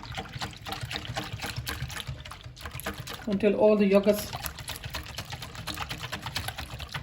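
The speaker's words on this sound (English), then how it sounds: "I'm just gonna give it a good whisk" A whisk beats yogurt, milk and water in a bowl, a quick rhythmic clatter and slosh rising briefly in the middle of the clip while someone talks.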